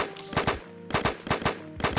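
Rapid automatic gunfire from an equipped gun in a Roblox Studio game test, bursts of sharp shots in quick rhythm with short pauses between volleys, loud and close, no talking.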